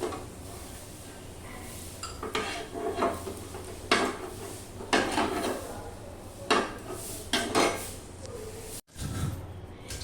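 Fried dry red chillies and garlic are lifted out of a pan, with repeated metallic scrapes and clinks of a spoon against the pan in irregular bursts.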